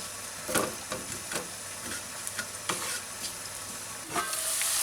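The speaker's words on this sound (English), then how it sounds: "We're going to dry fry this first until it changes into like a darkish colour" Whole cumin seeds dry frying in a pan, a soft steady sizzle with scattered crackles and faint stirring scrapes, close and continuous with no talk.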